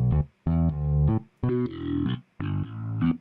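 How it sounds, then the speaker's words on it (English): A synth bass line in Ableton Live runs through Auto Filter with drive and clipping engaged, playing short distorted, buzzy notes in a choppy rhythm separated by brief silences, with no talking. "We can use the drive control and the filter to give it a little bit more kind of distortion"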